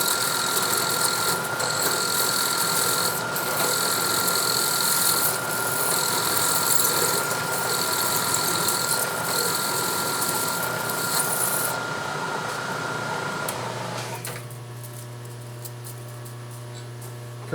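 A boring head cuts metal stock on a milling machine in a steady, loud grinding whine with machine rumble, then the cutting stops near the end and only a lower motor hum and tonal drone remain.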